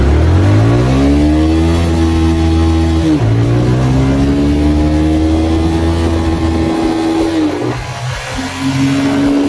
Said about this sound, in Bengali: এবার একটু বাইকটাকে ভাগানো যাক।